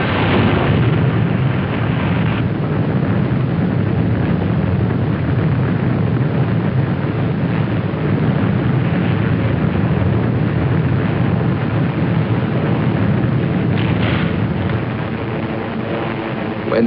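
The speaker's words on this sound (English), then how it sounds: "From rooftop height, without fear of resistance, German bombers blasted the capital, Belgrade, without mercy." German bombers attack Belgrade at rooftop height, and a dense, continuous rumble of explosions and aircraft noise rolls on from start to finish, heavy and low, with a brief harder burst near the end.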